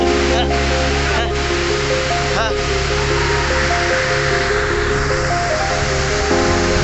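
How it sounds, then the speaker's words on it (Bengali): Ramjodi waterfall in Karanjia, Mayurbhanj, Odisha, a loud constant roar of rushing falling water close to the microphone, with brief voice sounds over it. "অসাধারণ এক ঝর্ণা।"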